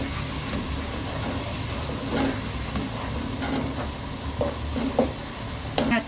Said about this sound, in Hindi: देखें भुनाई हमारे मसालों की हो चुकी है, ऑयल बिल्कुल अलहदा हो चुका है।